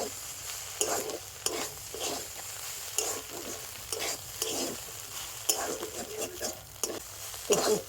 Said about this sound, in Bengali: তো সব কিছু আবারও ভালো করে মিশিয়ে নেব।